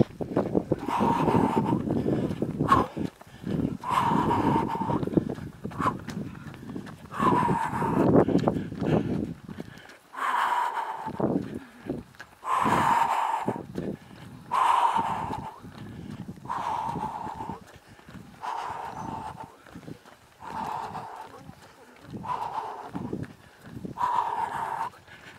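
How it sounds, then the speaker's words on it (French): Horses in a field near a running race course neigh and whinny repeatedly while hooves clip-clop, the calls recurring every couple of seconds amid wind noise, fairly close and clear with no talk. "Là, il y a des chevaux dans ce coin."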